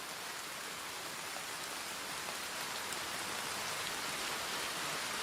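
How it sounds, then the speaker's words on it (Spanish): Steady rain falls in a dense, even hiss of drops striking surfaces, constant and moderately loud from start to finish with no voices. "la lluvia caía sobre él"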